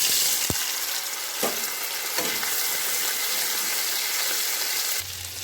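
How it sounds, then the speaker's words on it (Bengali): Salted, turmeric-coated prawns fry in hot oil in a pan, hissing and sizzling steadily, with a few sharp pops and stirring clinks near the start and a softer tail at the end. "এই তেলের মধ্যেই আমি চিংড়িটাকে ভেজে নেব"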